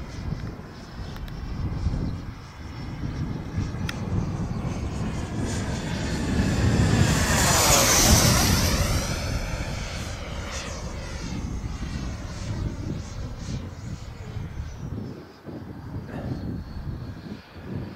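HobbyKing Vampire RC jet plane passing overhead, its engine whine rising as it approaches, peaking loudly with a sweeping Doppler shift, then fading away, with wind noise throughout.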